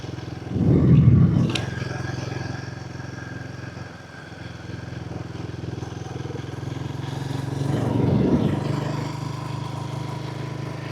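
A Royal Enfield Goan 350 motorcycle on the move, its engine a low, continuous rumble with wind noise, swelling louder near the start and again toward the end.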